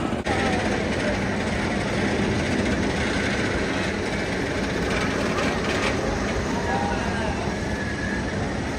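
The Nitro roller coaster at Great Adventure rolls along with a continuous loud rumble of wheels on track and rushing wind, with riders' voices mixed in.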